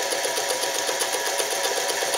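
An Alden manual zigzag sewing machine stitches at an even pace, giving off a smooth, quiet, rapid mechanical whir with a soft regular ticking pulse, heard alone and close.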